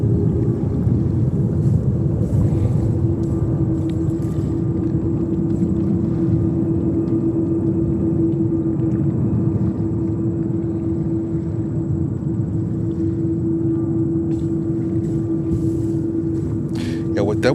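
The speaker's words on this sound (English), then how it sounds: "That was a Sikorsky, right, John?" A Sikorsky helicopter flying near New York's JFK Airport gives a steady, even hum that lasts the whole stretch, with wind buffeting the microphone.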